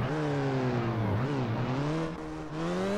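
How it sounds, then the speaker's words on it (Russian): A car engine revving in the video game Five Nights at Freddy's: Security Breach Ruin, a loud close droning tone that swoops down and back up in pitch, dips briefly, then climbs again. "Попрогреваем движок."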